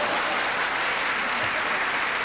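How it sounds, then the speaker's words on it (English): A television roast audience breaks into thick, continuous applause for comedian Milton Berle, a short dense burst of clapping that fills the room with no voices over it. "if we give him a nice round of applause, maybe we can get him to remain in his seat"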